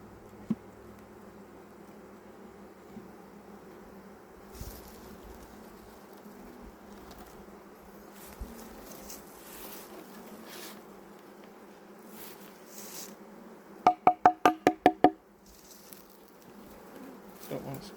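Honeybees buzz steadily at close range while being gently handled and brushed aside with a soft bee brush, with a brief burst of sharp clicks near the end and no talk.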